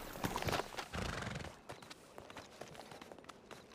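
A horse in a video game whinnies and clip-clops, with loud hoof and neigh sounds in the first second and a half, then quieter scattered clatter.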